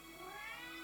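A pet cat gives a single drawn-out meow indoors, close and fairly clear, rising slightly then holding its pitch before ending abruptly.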